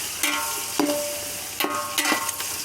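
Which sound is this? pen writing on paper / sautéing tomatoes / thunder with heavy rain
sautéing tomatoes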